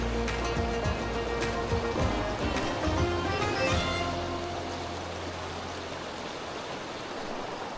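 Winter river water on the Delatite flows with lots of upwelling, making a steady, close broadband rush that eases slightly in the second half, with no talking.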